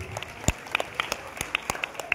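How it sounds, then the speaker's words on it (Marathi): Sparse, scattered hand claps from a small audience at a hypnotism stage show, a handful of separate sharp claps spread irregularly over about two seconds rather than a full ovation. "तुम्हाला आवडलं तर टाळ्या वाजवा माझ्या मित्रासाठी"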